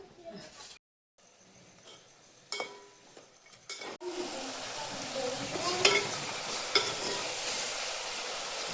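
A spoon stirs a melting jaggery mixture in a pan for girmit, giving scraping, clinking strokes over a soft sizzle. It starts quiet with brief knocks, then becomes a steady, busier stirring hiss from midway on.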